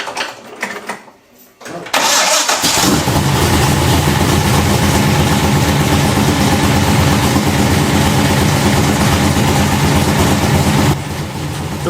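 A carbureted engine with a Holley carburetor idles at about 950 RPM, a loud steady low rumble that starts after a brief quieter moment and continues unbroken, with a voice over it.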